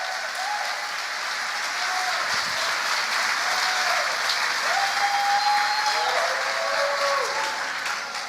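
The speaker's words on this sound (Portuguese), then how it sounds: "Forte esse aplauso" Sustained applause from a church congregation fills the space evenly, with a held organ or keyboard tone gliding faintly beneath the clapping.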